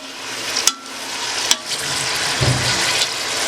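Bone-in mutton frying in a pot for Sindhi biryani, a steady close sizzle with a few sharp clatters of a spoon against the pot.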